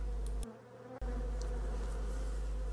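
A honeybee swarm being shaken into a hive box buzzes loudly and continuously up close, a dense insect drone with a brief dip and a sharp knock as the box is jolted.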